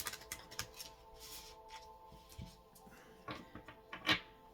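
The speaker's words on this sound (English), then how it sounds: "Shuffling by 3s here." Tarot cards from a Spiritual Awakening deck being shuffled in threes by hand, giving soft, irregular papery riffles and taps close by and fairly quiet, with no talking.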